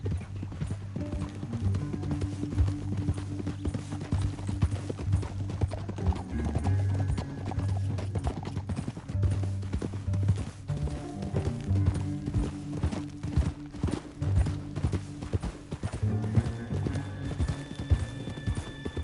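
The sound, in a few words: horses hooves clip-clopping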